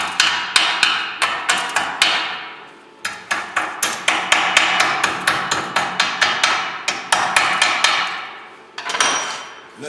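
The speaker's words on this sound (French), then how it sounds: "On prend le petit marteau. on va venir piquer" A small hammer chips slag off fresh welds on a salvaged metal side table, giving rapid sharp metallic taps in quick bursts with brief pauses, loud and close with no voices.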